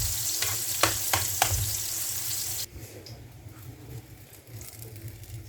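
Onion sizzles loudly in a pan for seafood paella as it is stirred, with several sharp scraping strokes early on, then the frying drops to a quieter, steady crackle.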